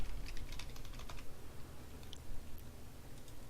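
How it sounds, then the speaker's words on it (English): Repeated clicking of a right mouse button during a Minecraft modded session, a quick irregular run of light plastic clicks, close and fairly quiet, heard alone without talk. "I don't know why I can't stop clicking the right mouse button"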